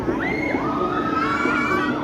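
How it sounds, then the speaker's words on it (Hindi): Children scream together on a climbing amusement park ride at Adventure Island in Rohini, Delhi: a loud, continuous crowd of shrill young voices with rising shrieks, close and unbroken. "चीख निकल रही है बच्चों की।"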